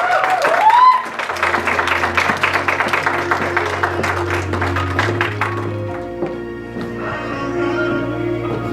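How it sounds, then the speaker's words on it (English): An audience at a staging of The Vagina Monologues applauding a performer, a brief burst of dense clapping that thins out over several seconds while sustained musical tones play underneath. "Have a big clap for our performer, one and only Richard Tiwari."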